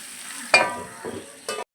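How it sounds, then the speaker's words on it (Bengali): Vegetables fry in hot oil in a covered pan for potol chingri, giving a soft, close sizzle with three short bursts of stirring or lid clatter. "এবার এটা ঢাকা দিয়ে একটু ভাজা ভাজা করে নেব"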